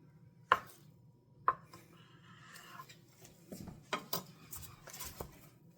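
A big knife cutting into a culatello, quiet and close, with a couple of sharp blade knocks early, then softer slicing and scraping sounds and a cluster of taps toward the end.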